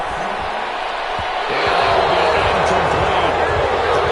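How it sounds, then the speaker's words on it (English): A stadium crowd in Madden 21 roars and applauds a defensive stop steadily, loud and sustained, swelling partway through with scattered thumps beneath. "Some applause for the defense there."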